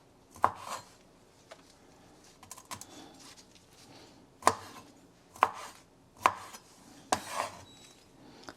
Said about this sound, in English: you can cut them in 5 pieces, but you want to feel the shrimp too